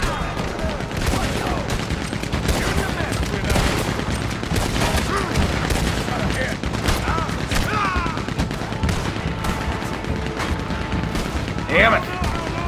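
A Red Dead Redemption 2 shootout fills the air with repeated gunfire, volleys of shots cracking over continuous game ambience, loud and busy throughout with a voice mixed in.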